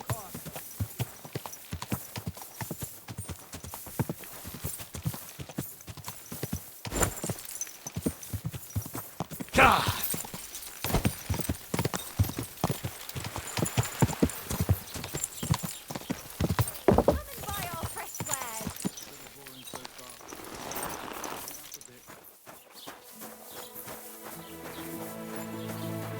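Horse hooves clip-clop steadily on a road in the medieval game Kingdom Come: Deliverance 2, close and rhythmic, with an occasional whinny and voices talking over the hoofbeats.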